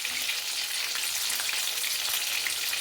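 Crispy chicken frying vigorously in overheated oil, a steady, dense sizzle and crackle close by, even in loudness throughout and heard alone with no talking.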